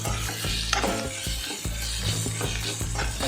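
Ginger-garlic paste and spices stirred into hot oil in a pan for Andhra-style egg curry, a steady close sizzle broken by repeated scraping strokes of a spoon, with no voices.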